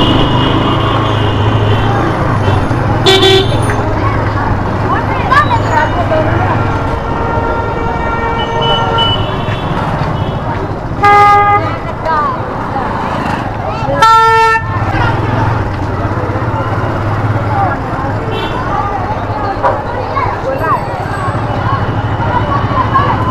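Vehicle horns honk in busy street traffic, several short toots and longer blasts scattered over steady road noise, with people talking nearby.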